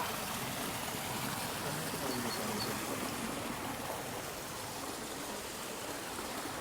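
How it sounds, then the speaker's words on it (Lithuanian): A waterfall flows steadily beside tulip fields in the Netherlands, producing a continuous broadband rush of water that stays even and fairly close throughout, with no voices breaking through. "Nu, davai, aš irgi pafilmuosiu krioklį."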